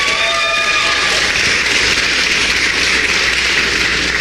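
A large audience at a national reparations convention claps in a dense, continuous, loud wash of applause that holds steady throughout.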